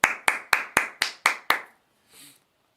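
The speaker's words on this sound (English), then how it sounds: "7 claps." Seven sharp hand claps ring out in a quick, even rhythm, close and crisp, followed by a brief pause and a faint trailing sound.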